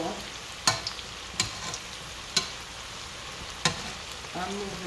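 Dumplings with bologna and sausages frying in oil that is too hot, giving a steady close sizzle broken by several sharp utensil knocks and scrapes against the pan.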